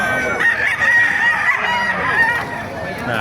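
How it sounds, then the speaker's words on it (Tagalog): Roosters crow loudly and repeatedly at a busy chicken market in Bocaue, Bulacan, with clucking fowl and faint crowd chatter in the background. "Ang ganda ng mga manok dito ngayon sa Bukay."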